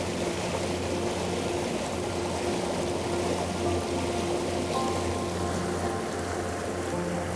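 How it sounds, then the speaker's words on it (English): Glacial meltwater stream rushing fast and ferociously out of a glacier, a steady close broadband roar of churning water with a low hum beneath, no talking. "we're in one of the meltwater streams that's coming out of the glacier"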